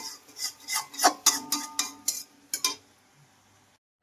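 Spice masala being stirred and fried in a pan, a spoon scraping and clinking against the metal in a quick, uneven run of strokes that thins out and stops, close and fairly loud.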